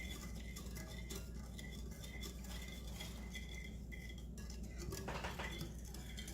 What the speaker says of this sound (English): And whisk this together.